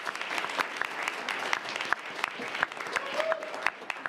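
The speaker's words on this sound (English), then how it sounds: "let's clap that up" Audience clapping at a city commission meeting, a modest room of people applauding with distinct individual claps rising and falling at moderate volume.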